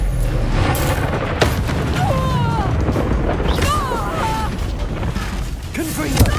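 Bombarda spell blasts in Hogwarts Legacy ring out as deep booming explosions and crashing impacts amid dense, continuous game combat noise, with spell whooshes and a voice calling out over the din.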